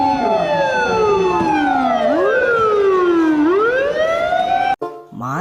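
A toy fire truck siren wails loudly and close, its electronic tone sweeping down and then back up in a steady cycle before cutting off abruptly, followed by a brief quiet rustle.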